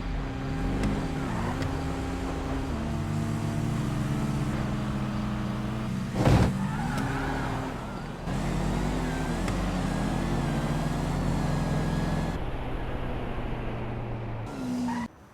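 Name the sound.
cars drag racing in GTA V video game, GT Classic, Imperator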